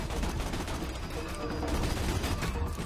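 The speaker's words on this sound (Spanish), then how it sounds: "Sigue disparándome con la torreta." Turret gunfire in the video game Borderlands 2 rattles in a dense, continuous burst of rapid shots, moderately loud and steady for a few seconds, with a voice speaking underneath.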